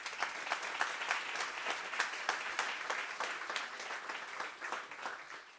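An audience at a corporate choices seminar applauds after a panel discussion, dense sustained clapping from a sizeable crowd, moderately loud and steady throughout with no talking.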